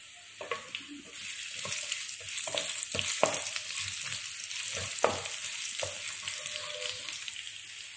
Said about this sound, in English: we have to stir it till that aroma smell of ginger comes out